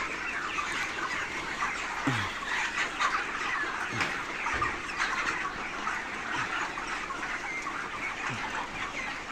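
A dense flock of broiler chickens on a farm clucks and chatters continuously, a busy, steady murmur of many birds with occasional louder calls standing out.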